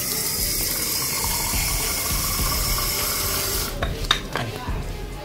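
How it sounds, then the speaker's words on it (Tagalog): Water running from a faucet to rinse a bike, a steady loud rushing stream that thins near the end into a few close splashes and knocks. "So, kuha po tayong water pang banlaw."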